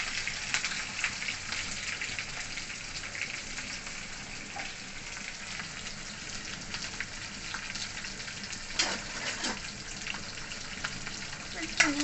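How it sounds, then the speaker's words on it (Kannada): Green chillies and onions frying in a pan for rice rava upma, a dense continuous sizzle with occasional scraping stirs and small spoon knocks, close and loud with faint talk under it. "ನಾವು ಇವಾಗ ಮೆಣಸಿನ್ಕಾಯಿ ಹಾಕ್ತಾ ಇದ್ದೀವಿ ನೋಡಿ ಇವಾಗ ಸ್ವಲ್ಪ ಈರುಳ್ಳಿ ಒಂದು ಮೂರನ್ನ ಹಾಕ್ತಿರೋದು"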